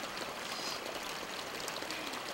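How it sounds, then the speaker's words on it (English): A small waterfall flows in a steady, bright hiss of splashing water outdoors, continuous and moderately close with no voices. "Look at that little waterfall, Dad."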